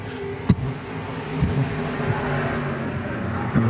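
IMCA modified race cars leave the green flag of a heat race at a dirt speedway, engines roaring steadily together at a distance with a few sharp pops.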